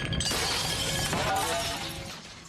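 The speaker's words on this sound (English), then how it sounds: "He smashed one of my ring lights" A ring light smashed apart makes a loud, continuous crash of shattering glass and plastic that fades slightly at the end.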